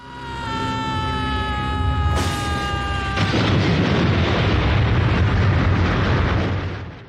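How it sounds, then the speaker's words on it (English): In a movie scene a snow globe blows up. Bright ringing tones give way to a loud, sustained roaring blast that rumbles on for several seconds. "she drops the most explosive snow globe in history"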